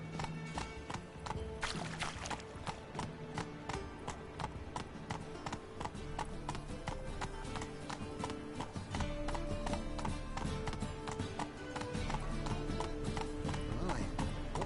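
A horse gallops in The Witcher video game, with fast rhythmic hoofbeats pounding steadily and evenly throughout. A voice is heard speaking over the hooves.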